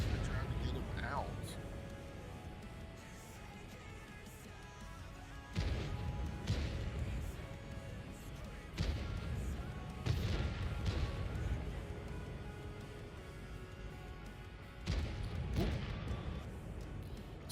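Tank cannon shots in a World of Tanks-style team battle with an M4 and Tortoise, several heavy booming blasts spaced a few seconds apart under steady engine rumble and commentary.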